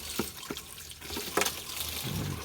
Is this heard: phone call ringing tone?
no